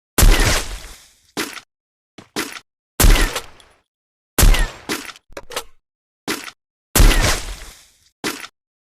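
AWM sniper rifle shots in PUBG, a series of loud sharp cracks with echoing tails separated by silences, some followed by short clicking bolt-action sounds, close and alone.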